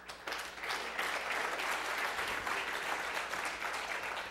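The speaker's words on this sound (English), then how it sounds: "Wow, that's like the easiest applause you could ever get." Steady applause from an audience at a talk, a soft, even wash of many clapping hands heard at a distance, continuing unbroken without speech.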